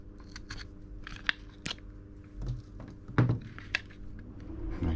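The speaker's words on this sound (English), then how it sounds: "run it down the length of the feather and then use a sharp blade just to trim it" A sharp blade trims an arrow's feather fletching, making crisp snipping and crunching cuts. A handful of short cuts and clicks come close and fairly quiet over a low background hum, spaced irregularly across the few seconds.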